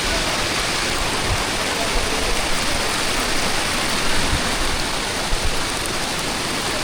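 Steady, loud rush of a flowing river, a continuous broadband roar with no pauses, close by and heard alone without voices.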